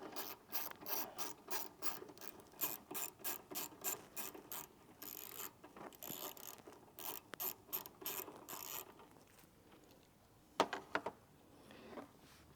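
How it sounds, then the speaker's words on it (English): A ratchet wrench tightens a bolt on a battery terminal while wiring an Auxbeam switch panel on a fifth-generation Toyota 4Runner, making fast rhythmic clicking strokes in several runs before slowing and stopping, with no talking. "then we are going to bolt it in to this terminal."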